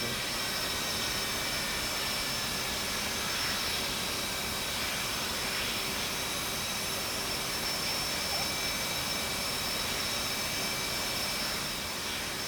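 Steady jet engine roar from an aircraft in the DCS flight simulator game, a dense continuous broadband rush with thin high whining tones running unbroken and alone throughout.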